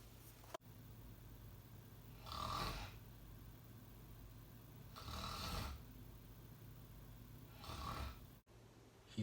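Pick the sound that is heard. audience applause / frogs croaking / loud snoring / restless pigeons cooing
loud snoring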